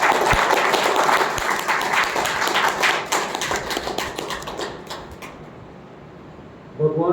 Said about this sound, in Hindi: आप सभी के लिए हर कोई जोरदार तालियां बजाए